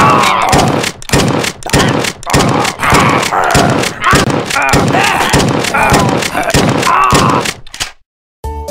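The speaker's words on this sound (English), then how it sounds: "Shotgun. Double barrel." Repeated heavy double-barrel shotgun blasts in a redneck-versus-zombies video game, about a dozen loud booms in a fast, steady rhythm, continuing without pause for nearly eight seconds before cutting out.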